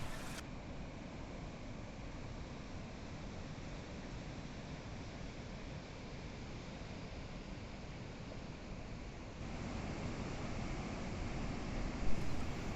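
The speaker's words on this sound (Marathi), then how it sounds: "हा पाण्याचा खळखळाट" The Hiranyakeshi river gurgles and rushes over its bed near a forested temple site, a dense, steady wash of flowing water close by that swells slightly toward the end.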